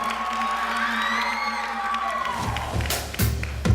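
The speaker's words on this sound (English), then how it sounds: "Give her a round of applause." At a magic show, an audience applauds and cheers for a volunteer; crowd noise and a sustained voice build into scattered claps and sharp bursts, with children's shouts mixed in.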